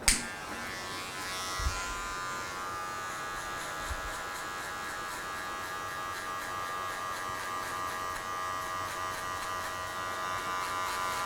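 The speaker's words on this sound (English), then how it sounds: "I'm gonna go to our clipper with a 1 close, and then we'll do clipper open." Electric hair clipper with a number-one guard, set closed, running steadily during a drop fade haircut, a close continuous buzz after a sharp switch-on click, with a couple of faint bumps and no talking.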